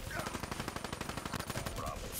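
Rapid bursts of automatic gunfire from the Weevil gun in a video game, a steady, loud run of closely spaced shots filling the whole stretch with no pauses.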